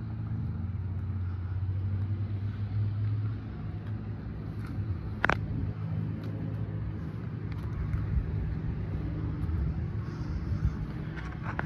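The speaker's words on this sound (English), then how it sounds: "this unit is rigged with a 150 horsepower Suzuki motor" A 150 horsepower Suzuki outboard on a 2024 Bentley Bolt boat runs with a steady, close low drone and continuous rumble, one sharp knock midway, no voices.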